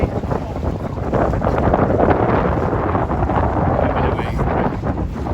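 A gust of wind sweeps over the water near sailboats at Rutland Water, a loud, broad roar of wind buffeting the microphone for several seconds, with faint background voices underneath.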